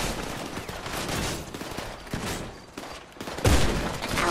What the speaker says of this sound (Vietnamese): Súng bắn mà hết đạn thiệt luôn á.